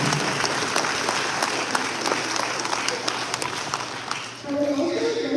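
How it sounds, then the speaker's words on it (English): Sustained applause from an audience honoring students and parents, a dense steady wash of clapping that continues for several seconds before tapering off as a voice begins. "Let us give one more big round of applause to the students and the parents."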